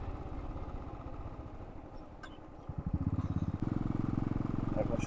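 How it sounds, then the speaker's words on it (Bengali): A motorcycle rides along a road on a trip out of Siliguri, its close engine a steady drone that grows louder and rougher partway through. "আমরা শুধু বাইক চালিয়ে যাচ্ছি।"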